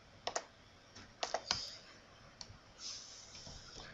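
A password being typed on a computer keyboard: a few sharp, close key clicks in small clusters, then a softer run of keystrokes, with no voices.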